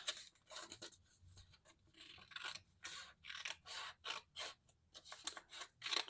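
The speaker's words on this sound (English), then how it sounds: "the first thing we're going to do is cut this envelope." Scissors snip through a paper envelope in a series of close, crisp cuts, some quick and others drawn out, at a fairly soft level with no talk.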